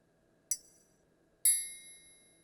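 Two bright, ringing triangle tones from a Korg TR Rack synthesizer, each struck once with a sharp attack and a shimmering metallic decay, about a second apart, the second ringing longer.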